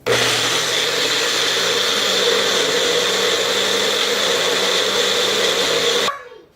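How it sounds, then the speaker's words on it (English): A blender blending fruit whirs loudly and steadily for several seconds, then spins down abruptly as it is switched off. "put it into my magic blender. And just blend this up."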